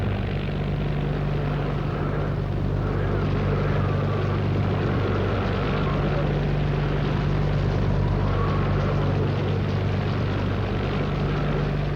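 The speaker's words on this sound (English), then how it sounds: "started the engine" A boat's engine drones steadily and loudly through a hurricane, a constant low rumble with a dense wash of wind and water noise and no break for the whole stretch.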